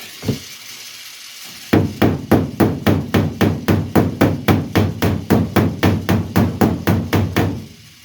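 A hammer beats a Ford Escort MK1 steel body panel flat with a dolly behind it, about twenty sharp metallic blows in a fast, even rhythm, loud and close, after a brief quiet start.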